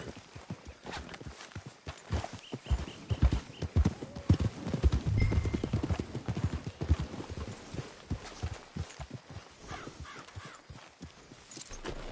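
Horses' hooves clip-clop steadily on the ground in the Western video game Red Dead Redemption 2, a close, busy rhythm of several animals walking, with a brief whinny and faint background ambience.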